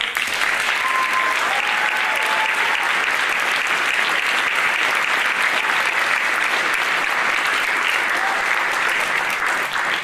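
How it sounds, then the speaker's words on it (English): Audience applause after a high school spring band concert, a steady, full roar of clapping and crowd noise that holds evenly for the whole stretch without a break. "So let's give them all one more round of applause."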